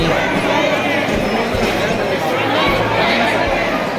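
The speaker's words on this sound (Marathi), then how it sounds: "मंदिरमध्ये आलो पण खूप गर्दी आहे" A large crowd of devotees packs a temple, their dense, continuous chatter and murmur filling the space with loud, unbroken babble throughout.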